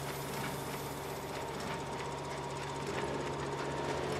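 Baler pickup running in the Farming Simulator video game, a steady mechanical hum and drone with a faint rhythmic clatter, moderately quiet and continuous, alone without talk.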